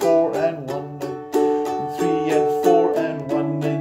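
Ukulele strumming the chorus chords of a song with steady, driving down strums, each chord ringing clearly in an even rhythm, played alone and close.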